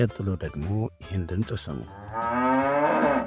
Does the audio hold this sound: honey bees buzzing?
no